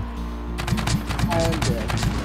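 Gunfire in the Scrap Mechanic survival game, a rapid string of evenly spaced shots firing over a steady low hum, with a voice speaking underneath.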